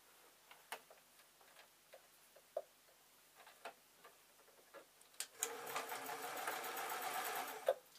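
Domestic sewing machine stitching the seams of a fabric owl toy: scattered soft clicks and ticks at first, then a dense continuous run of fast mechanical stitching for the last few seconds.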